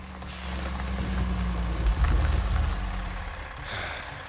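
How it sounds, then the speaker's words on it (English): A truck pulls up close with a heavy low engine rumble, then lets out a sharp hiss of air brakes near the end. "A truck?"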